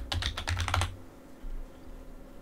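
Quick burst of typing on a computer keyboard while entering a software search, a rapid run of close, crisp key clicks for under a second, then near silence.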